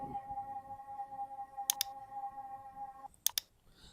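A computer key is pressed in two quick double clicks, crisp and close, over a faint steady electronic hum.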